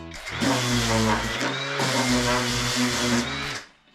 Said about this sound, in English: Step one for this, sander.